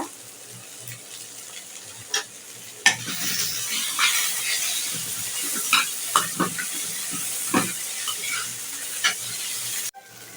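Green tomato stir-fry cooks in a pan with steady frying hiss and repeated sharp stirring scrapes and clicks, close and alone without talk.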